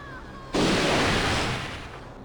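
In the video game BloodRayne, a single loud burst of gunfire erupts abruptly and lingers as a rough blast before slowly tapering off.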